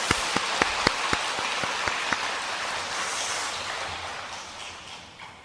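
A church congregation applauds in encouragement, a few sharp separate claps at first, then a dense, even patter of clapping that slowly fades, heard from a distance with no talk.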